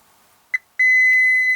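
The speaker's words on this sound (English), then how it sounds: "I am just going to move around to the diode mode here and just beep our outputs." A multimeter in diode mode beeps while probing the outputs of a Linn Karik power supply with a shorted tantalum output capacitor: a short chirp, then a long steady close tone held to the end.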